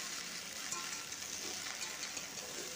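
Quiet, steady sizzle and hiss of okra with poppy seed paste and chili powder frying in oil in a pan, with faint stirring scrapes and no voices.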